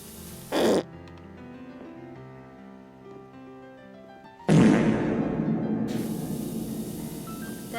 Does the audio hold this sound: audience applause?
no